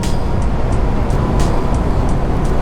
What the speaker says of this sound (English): right now I just listen to the sound of the engine